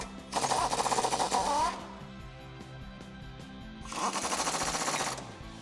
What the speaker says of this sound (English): So now with our 16mm socket, we can tighten up our body bolts.